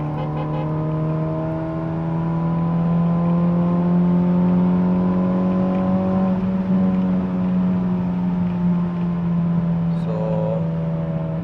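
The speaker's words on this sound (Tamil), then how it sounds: "3rd gearல் இருக்க வண்டி. ஸோ நல்லா ஹைவேயான ரோடு தான், அதனால தான் கொஞ்சம் ஸ்பீட்ஸ் வந்து நான் ஓட்டுறேன்." A modified Honda Civic cruises in third gear on a highway, its engine holding a steady loud drone with faint road roar, the pitch easing slightly near the end.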